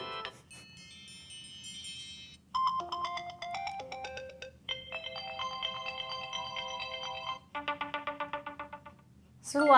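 A new iOS 7 iPhone ringtone plays, a sequence of bright melodic tonal phrases and rapid chiming bursts, fairly faint against a low background hum.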